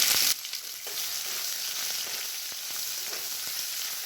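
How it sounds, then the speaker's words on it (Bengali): Julienned onions fry in a pan of hot oil right after cumin, giving a steady, close, dense sizzle with faint stirring scrapes throughout and a brief sharper burst at the very start. "পেঁয়াজটাকে এবার লাল করে ফ্রাই করে নিতে হবে"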